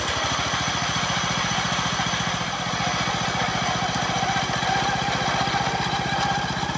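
Roto-tiller engine driving a corn grinder to regrind cornmeal, a steady loud close putter with a fast regular pulse that runs unbroken throughout, with no talking.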